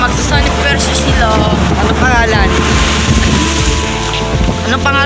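Loud, gusty typhoon wind roars across the microphone over open sea in a Philippine province, continuous and buffeting, with voices faintly audible beneath it.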